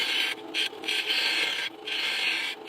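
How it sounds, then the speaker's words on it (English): Bandsaw cutting excess antler off a ring blank, a steady high rasping whine in close, unbroken strokes broken by short gaps, loud and alone with no talk. "I take my bandsaw and I cut all of the excess antler off"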